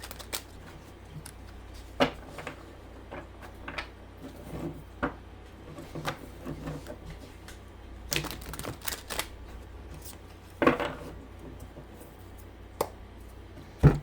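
Soft, crisp riffling and tapping of tarot cards being shuffled, irregular bursts close by over a quiet room, no voices.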